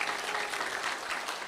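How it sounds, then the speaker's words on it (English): An audience at a school district storytelling event gives a steady, dense round of applause, many hands clapping continuously at close range without a break. "give them a round of applause to all the schools"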